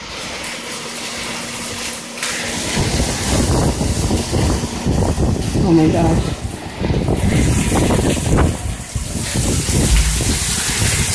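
Heavy rain and gusting wind beat down outdoors during a thunderstorm in Naples, Florida, a dense rushing wash with buffeting wind on the microphone and an excited voice exclaiming briefly.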